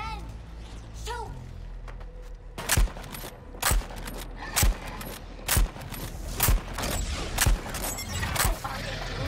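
Gunfire in the video game Suicide Squad: Kill the Justice League; a run of loud, sharp shots hits at a steady rhythm about once a second over busy game sound, after a short stretch of speech.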